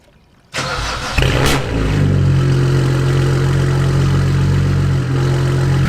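A BMW 335i fitted with a JB4 tuner cranks and fires, then settles into a steady, close, loud idle with a brief rev flare just after start-up.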